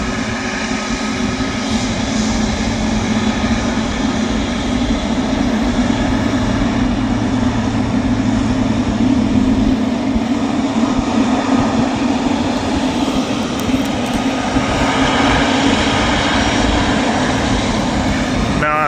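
Qatar Airways Boeing 777 jet departing Manchester Airport, its engines a loud, continuous roar with a steady low rumble that holds strong throughout and swells slightly toward the end.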